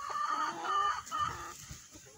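Hens clucking and calling in short repeated bursts, close by, while taking dust baths outdoors in a farm setting; no talking.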